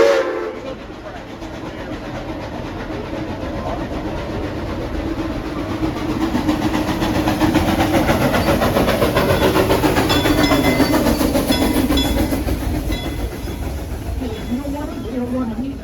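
Frisco sing-along steam train running along the track, a steady loud rumble and clatter throughout with faint whistle-like tones, while people talk.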